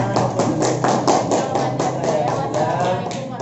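An audience claps at a religious lecture, a burst of quick, sharp hand claps in a loose rhythm, close and fairly loud, tapering off toward the end.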